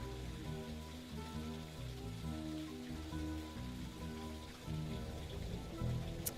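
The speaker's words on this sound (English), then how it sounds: "Oh, it's raining again." Steady rain falling and pattering on surfaces, a continuous hiss under a layered background hum, with no voices.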